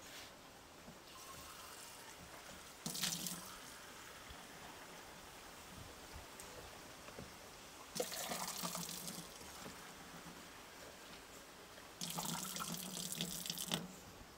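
Water poured in bursts into oyster mushroom accra batter in a kitchen, three short splashy pours with quiet pauses between, fairly close and moderately loud.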